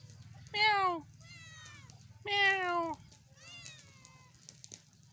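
Two loud, drawn-out meows from cats at a family home, spaced about two seconds apart and close by, over a low steady hum, with faint softer mews trailing after.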